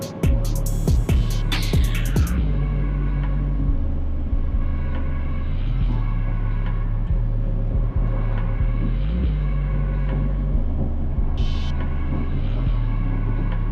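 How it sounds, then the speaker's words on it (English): A car with a manual gearbox drives along with a loud, steady engine rumble whose pitch climbs and drops through gear changes, with clicks and a brief high whine partway through. "I think I like this manual transmission a lot. It is a blast to drive."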